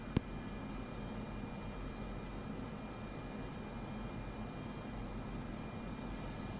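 Cessna plane engine taxiing in Microsoft Flight Simulator 2024, a faint steady drone with a soft hiss, a single brief click near the start.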